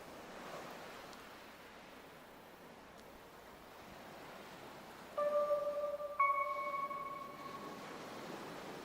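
Lake waves wash in a steady, soft broadband surf ambience from the OMORI soundtrack, continuous throughout, with sustained synth tones entering partway through and layering over the water.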